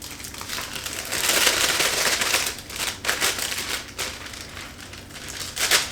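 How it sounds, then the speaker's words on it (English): Duncan Hines brownie mix bag being cut open and the dry powder poured out, a close crinkly rustling and shuffling of plastic and falling mix that swells and fades over several seconds. "I'm just going to cut this bag open and throw it right on in"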